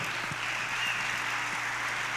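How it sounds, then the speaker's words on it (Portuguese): A church congregation applauds during a sermon, a steady, even roar of many clapping hands at moderate volume, with a faint low hum running beneath and no speech on top. "Quem crê assim, aplauda o Senhor Jesus"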